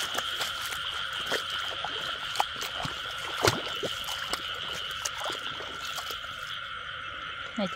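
Frogs croaking at night during a frog-catching outing, a dense, continuous chorus of nearby croaks with sharp clicks and faint trickling water scattered throughout.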